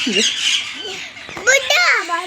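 Shrill parrot squawks and chattering calls from a flock, loud and close, overlapping in quick irregular bursts with bird-like whistles and no clear talking.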